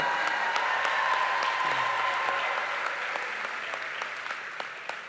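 Sustained applause from a large crowd at a Lincoln University graduation ceremony, steady dense clapping throughout that slowly fades slightly toward the end.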